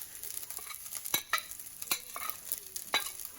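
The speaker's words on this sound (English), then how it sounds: "just fry it all up. And I just leave it in there for a couple minutes, stirring it frequently" Ground beef and vegetables stir-fried in a pan, with a steady high sizzle broken by a series of sharp scraping clatters from frequent stirring, close and moderately loud.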